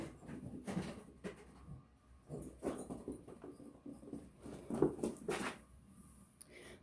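Indoors at home, a dog makes a series of soft whimpering and whining noises in irregular bursts, fairly close and faint, with no talking.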